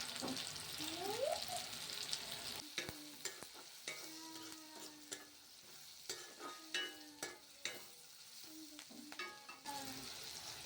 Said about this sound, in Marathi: हा मसाला तेलामध्ये फ्राय करून घ्यायचा आहे